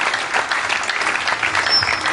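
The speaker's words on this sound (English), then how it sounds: "Keep clapping those hands for Jesus." Church congregation clapping hands during a worship service, a steady, fairly loud and sustained patter of many hands heard on its own without speech.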